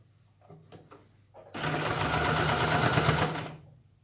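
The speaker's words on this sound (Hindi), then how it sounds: "यहाँ पे हमें किनारे पे सिलाई लगानी है" A sewing machine runs steadily for about two seconds, stitching along the edge of a princess-cut blouse; the dense mechanical whir starts abruptly after faint soft sounds and fades out near the end.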